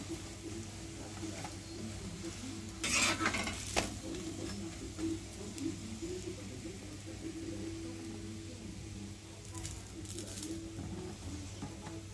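A methi paratha frying slowly in oil on a pan gives a low, steady sizzle with a few brief louder crackles and scrapes, and a voice talks faintly at times.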